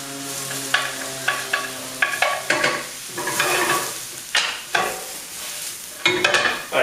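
Mushrooms cooking down in a pan sizzle steadily while a spoon or spatula stirs and scrapes them in irregular bursts, close and fairly loud, with no voices.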